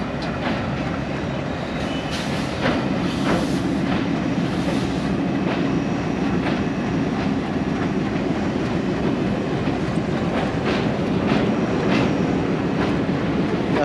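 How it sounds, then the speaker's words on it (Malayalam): A train crossing the Pamban bridge on a windy day, a loud continuous rumble with rhythmic clickety-clack of wheels over rail joints and a roar of wind, heard close and unbroken for the whole stretch. "ട്രെയിൻ വരുന്നത് കണ്ടു"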